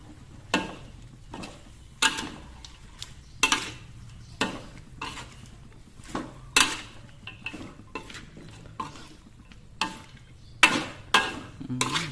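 Vegetables clatter and scrape in a full pan with repeated sharp stir-frying strokes over a low sizzle, steady rhythm throughout, close by.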